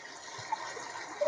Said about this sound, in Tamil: சில்வர் பாத்திரத்துல நம்ம தண்ணி பிடிக்கிறோம்